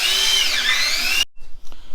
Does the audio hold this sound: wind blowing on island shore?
no